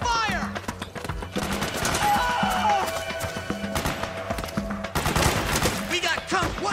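Dense burst of suppressing gunfire, rapid automatic shots crackling continuously and loudly throughout, with sharp overlapping reports and a busy battle-like backdrop.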